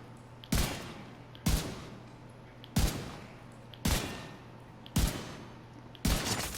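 Six single gunshots from the video game The Division 2, fired as headshots on a named enemy on heroic difficulty: loud, sharp cracks spaced about a second apart, each ringing out and fading before the next.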